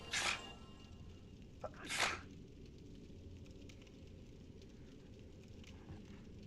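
Two sharp, loud sneezes burst out about two seconds apart from a person, with the second one longer, against a quiet hum of background noise.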